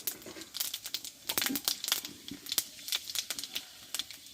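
Dry red chili, a bay leaf and five-spice panch phoron are tempered in hot oil for a banana-flower curry, making quick, irregular crackles and pops close by.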